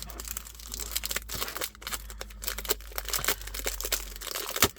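A 20x20 scrapbooking paper pad is unwrapped from its plastic packaging, giving loud, close, continuous crinkling and tearing with a few sharper rips, without any talking.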